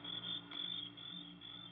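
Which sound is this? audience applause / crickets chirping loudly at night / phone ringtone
crickets chirping loudly at night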